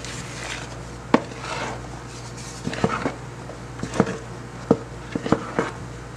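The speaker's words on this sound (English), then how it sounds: "I'm gonna add 1 cup of walnuts to that. I'm just gonna mix that in." Walnuts being stirred into banana bread batter in a bowl, with scattered soft clinks and taps of a utensil against the bowl over a low background hum, no talking.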